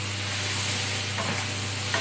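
Tomato and onion sizzle steadily in a hot pan for an egg curry gravy, a close, even frying hiss with a faint stir or scrape near the end.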